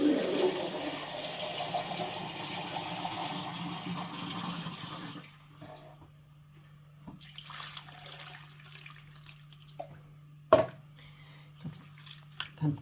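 Homemade butter is washed by hand in water, with splashing and sloshing running water at first, then quieter squishing and kneading with occasional sharp knocks, close by.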